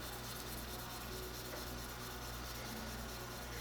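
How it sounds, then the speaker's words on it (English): Steady, even rubbing of 600 grit sandpaper on a surface, a soft continuous scratchy hiss with no pauses. "And give that a sanding."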